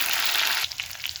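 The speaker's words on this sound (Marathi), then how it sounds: "वांगी छान अशी आपण तेलामध्ये परतून घेणार आहोत।" Eggplant frying in hot oil with browned garlic gives a loud bright sizzle that drops suddenly midway into softer, sputtering crackles.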